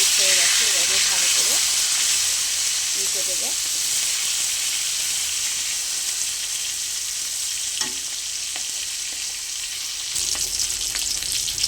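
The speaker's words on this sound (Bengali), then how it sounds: "তেলটা আমার গরম হয়ে গেছে এবার মাছগুলো ভেজে নেব" Pieces of bata fish fry in hot oil in a wok, producing a loud, continuous bright sizzle with a few spatters and stirring knocks, and no talking.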